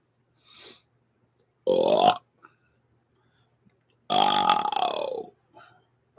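A man's deliberate burps come in two long, loud belches with short grunts and breaths between, close to the microphone, as he tries to burp out smoke.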